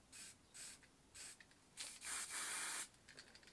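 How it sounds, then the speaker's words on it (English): Water-based spray paint hissing onto canvas through a cap in several short bursts, then one longer continuous spray, close and quiet with brief pauses between passes. "you just spray through it"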